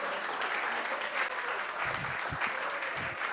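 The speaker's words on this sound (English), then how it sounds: "Please give them a big round of applause." Steady audience applause for poster competition winners at a university panel event, a dense continuous wash of clapping throughout with a few low thumps underneath.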